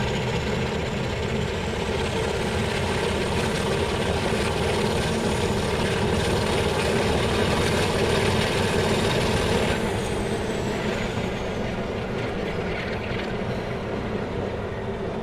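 A Class 47 diesel locomotive in Train Simulator holds a steady, loud engine drone, its pitch shifting slightly partway through as it revs, with no talk over it.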